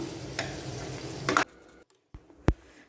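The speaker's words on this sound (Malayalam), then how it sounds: "പിന്നെ അതിലേക്ക് ഞാൻ വേവിച്ച് വെച്ച ബീഫാണ് ഇപ്പോൾ ചേർത്ത് കൊടുത്തിട്ടുള്ളത്. എന്നിട്ട് ഇതെല്ലാം കൂടി നന്നായിട്ടൊന്ന് മിക്സ് ചെയ്ത് കൊടുക്കാം." Cooked beef with fried coconut and green chillies is stirred in a pan: sizzling with scraping utensil sounds, then a sudden cut to near silence broken by a couple of sharp knocks.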